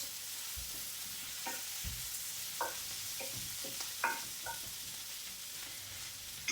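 Peppers sizzle steadily in a hot pan, with a spoon scraping and stirring through them at irregular moments. The frying hiss is constant and close, and nobody speaks.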